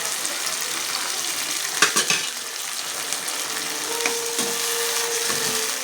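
Curd and tomato chutney sautéing in a pan, a steady broadband sizzle and fry hiss throughout, with a few brief clinks of a utensil stirring against the pan near the middle and no talk.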